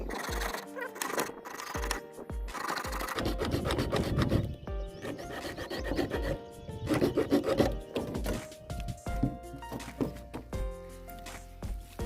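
Plumbing pipe cut during slab pipe laying, with a steady rasping, sawing scrape in uneven strokes close up and sharp knocks between.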